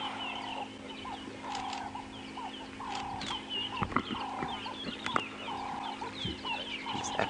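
Repeated soft cooing bird calls at sunrise on a safari drive in the Kenyan bush, coming in regular phrases at moderate distance, with a few sharper bird notes and faint knocks among them.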